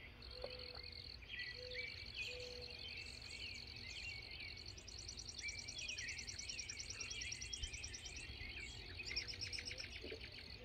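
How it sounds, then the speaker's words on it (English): Birds chirp outdoors in open country, with short, high, repeated calls and trills scattered across the stretch. They are faint and fairly distant over a steady bed of insect and ambient buzz, with no voices. "Some of the birds, man, they're kind of acting crazy."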